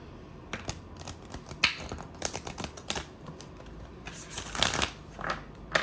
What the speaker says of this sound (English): that shuffle was so satisfying